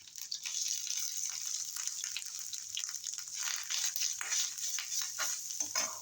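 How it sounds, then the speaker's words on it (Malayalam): Grated coconut fries in a pan with a steady crackling sizzle and occasional scraping stirs; no voices. "ഇതിന് നല്ല ബ്രൗൺ കളറിലൊന്ന് വറുത്തെടുക്കാം"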